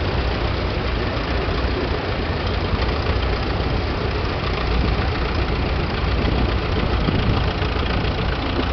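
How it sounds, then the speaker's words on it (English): A vintage Lanz Bulldog tractor engine running steadily, a dense continuous rumbling drone with no breaks, loud and close, with no voices over it. "Here we have another Land Bulldog in front of us."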